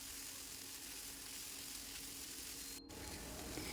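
Egg bhurji with onion, tomato and chili sizzling in a pan as it is stirred, a steady soft frying hiss throughout with a brief dropout near the end, no voices.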